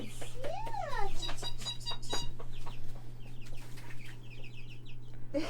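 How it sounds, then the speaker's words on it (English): Baby chickens a couple of weeks old peep and chirp close by, in quick, high, sliding calls and short bursts of chatter that come and go over a steady background hum. "They're babies. They're baby chickens."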